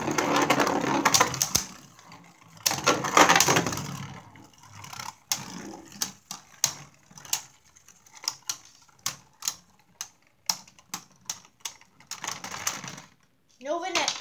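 Beyblade spinning tops ripped and clashing in a stadium, a burst of launch whirring followed by a run of sharp, irregular plastic-and-metal clicks and collisions, with speech in the background.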